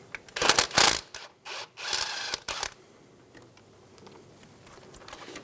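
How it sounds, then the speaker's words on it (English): Ratchet with an 8 mm socket removing the ABS wire bracket bolt on a 2007-2017 Ford Expedition: several quick, close clicking ratchet bursts, then quiet faint handling noises. "Using an 8 millimeter socket, remove the bracket for the ABS wire."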